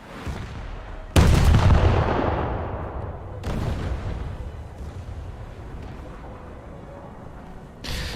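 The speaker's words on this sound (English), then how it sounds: "Gunfire is going to be that loud, isn't it?" Naval gunfire in a warship video game featuring Japanese heavy cruisers: three heavy booming salvos, the first loudest with a long rumbling tail, each ringing out near and alone.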